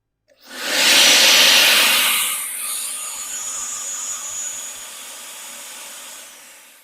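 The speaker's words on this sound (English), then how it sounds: "Now let's use the turbo fan." A turbo fan leaf blower spinning up with a loud rising whoosh, then holding a strong steady airy roar that gradually settles to a lower level, close by.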